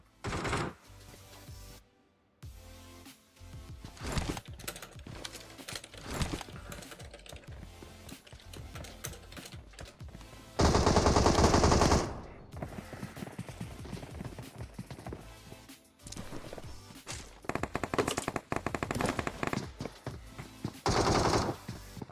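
Gunfire from the mobile battle royale game PUBG Mobile on the Sanhok map, rapid bursts of shots crackling through a busy mix, with a few louder dense bursts standing out, no talk.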